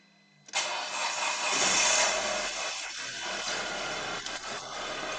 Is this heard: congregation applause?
no